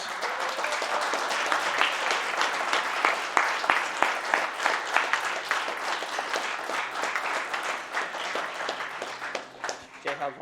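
An audience at the RPG Limit Break 2022 charity gaming event gives a sustained round of applause after a Kingdom Hearts Final Mix HD run, a dense wash of clapping that thins out toward the end.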